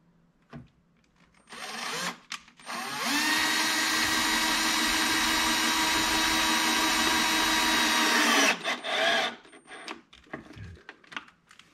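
A power drill drives 3/4-inch pan head screws into melamine, a loud steady whir lasting about five seconds, flanked by short bursts of the drill starting and stopping, close up with no talk.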